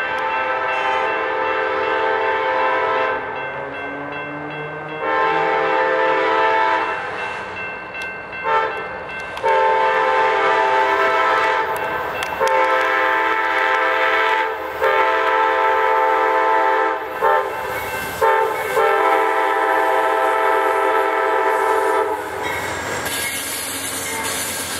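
An Amtrak Crescent passenger train, number 20 with a Dash 8 locomotive second, passes close in Mableton, Georgia, sounding long loud horn blasts over the roar of rolling cars and squealing wheels.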